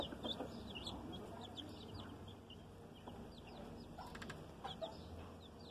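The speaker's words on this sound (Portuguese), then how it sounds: "Tem 31 pintinhos aqui" Brood of thirty-one nine-day-old laying-hen chicks on a farm in rural São Paulo, a busy chorus of high, thin peeps overlapping continuously at moderate distance, faint overall, with no talk.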